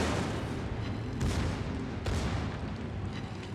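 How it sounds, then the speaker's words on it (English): Two sharp, booming launch thumps from a warship firing torpedoes in the naval video game World of Warships, spaced about a second apart over a constant dense rumble of battle and sea noise. "Just gonna shoot my torpedoes at you. Torpedoes, go!"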